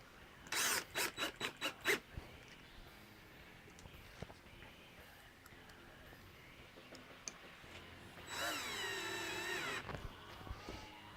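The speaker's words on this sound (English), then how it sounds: "Oh, need my drill." A power drill whirs in a short burst of about two seconds in a quiet workshop. Earlier there is a quick run of sharp clicking pulses. Wood screws are being driven into a wooden mount.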